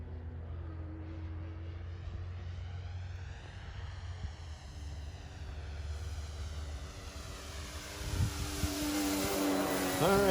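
A Hangar 9 J-3 Cub 10cc electric scale RC airplane flies a barrel roll overhead, its steady motor drone holding through the pass and swelling louder and higher as it nears toward the end.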